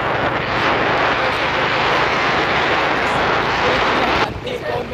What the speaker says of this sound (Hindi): मैं बाइक चला रहा हूँ।